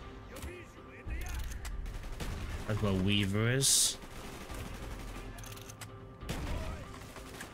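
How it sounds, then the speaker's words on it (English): Gunfire in the video game Call of Duty Black Ops, bursts of shots with a rising whine mixed into a busy battle soundscape, heard under a voice speaking. "Gunfire's drawing attention."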